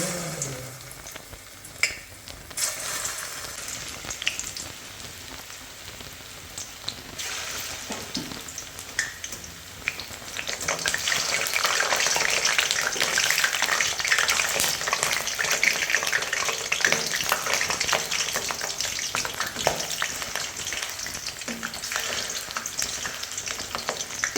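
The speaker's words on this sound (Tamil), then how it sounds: "இந்த உருண்டையை போட்டு நல்லா அழகாக பொரிச்சு எடுக்கணும்" Chicken kofta balls sizzling and crackling in hot oil, a steady close frying hiss that grows louder midway, with occasional stirring clatter.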